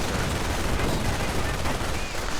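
Artillery fire in a WWII strategy video game, a dense continuous rumble of overlapping blasts and gunfire, loud and unbroken throughout.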